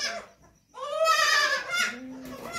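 Newborn goat kids from a red goat and a black goat bleat up close on a village farm, giving a rapid run of high, wavering cries that rise and fall with hardly a pause.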